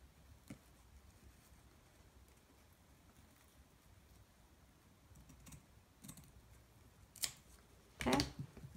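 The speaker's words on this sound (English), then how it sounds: "I just have to cut off the excess piece of lace" Scissors snip off excess lace on a teacup pin cushion: quiet scattered clicks over a low room hiss, ending in two sharper, louder cuts close by.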